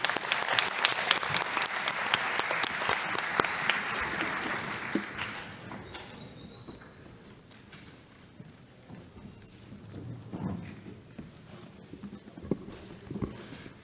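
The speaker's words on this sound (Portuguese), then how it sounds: "desde já pedindo uma salva de palmas." Loud audience applause fills a conference hall as a keynote lecture begins, with dense clapping for about five seconds before it fades into scattered claps and quiet room noise.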